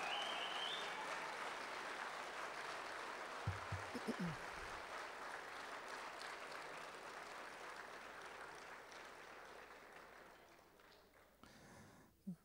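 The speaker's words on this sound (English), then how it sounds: "let's give one more round of applause to our outstanding student athletes" Sustained applause from a large crowd honoring student athletes, steady and full for several seconds, gradually fading toward the end.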